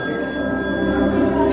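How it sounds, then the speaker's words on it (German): A telephone rings at a Halloween horror festival at Movie Park, a steady continuous electronic ringing tone that holds at even loudness throughout. "Dein Telefon."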